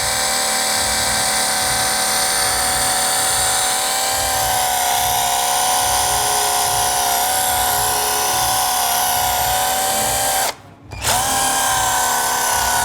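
A battery-powered buffer polishes the paint on a BMW Mini Cooper, giving a loud, steady high-pitched whine that runs continuously with a slight pulsing rhythm and cuts out briefly near the end before restarting.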